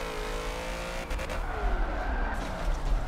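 A drift car in the racing game Forza, engine revving steadily and climbing through the RPM band while the tires squeal, loud and continuous throughout with rising and falling pitch.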